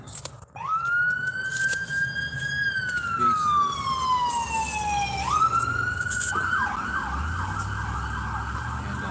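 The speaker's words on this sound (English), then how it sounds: "An ambulance and a state patrolman." An ambulance and a state patrol car pass with wailing sirens, a loud rising-and-falling electronic wail that shifts pitch and switches pattern partway, over road noise, with a brief spoken word.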